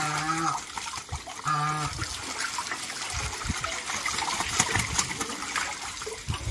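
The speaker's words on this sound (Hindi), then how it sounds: "देख सकते हो कितनी अच्छी तरह से नहाते," Ducks bathe and splash in water on a farm during summer heat, with a steady wash of watery splashing and trickling throughout and a few brief low calls near the start.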